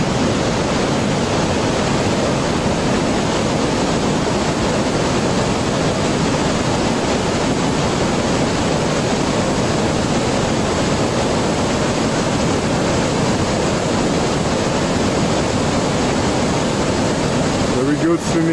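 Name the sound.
roaring waterfall on the Rupin River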